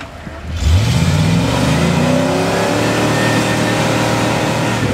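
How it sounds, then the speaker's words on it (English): A car stuck in a rut, its wheels plowing up ground, bursts into a hard rev after a brief quiet moment and then holds a loud, strained, rising engine drone, close by. "He's plowing up ground with the car."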